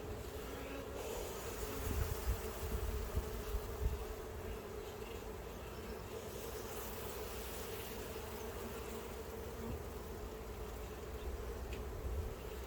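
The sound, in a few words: honey bees buzzing around hive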